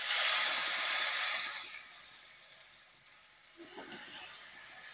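Grated kohlrabi hits hot spiced oil with a loud, bright sizzle that fades to a softer hiss, then flares up again briefly.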